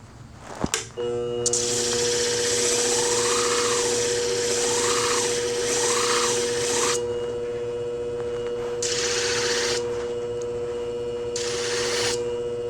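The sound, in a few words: sharpening Centrix hair shears on a sharpening machine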